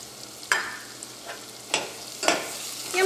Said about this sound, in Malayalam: മഞ്ഞൾപ്പൊടി എണ്ണയിൽ കിടന്ന് നന്നായിട്ട് മുരിഞ്ഞിട്ടുണ്ട്